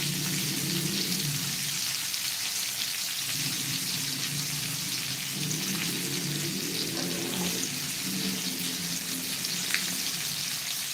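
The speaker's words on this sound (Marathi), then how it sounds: "आपण दुसरे बांगडे जे आपले आहेत ते सुद्धा फ्राय करून घेऊया" Bangda (mackerel) fish frying in a pan, a steady, dense sizzle with crackling oil that holds throughout, no talk.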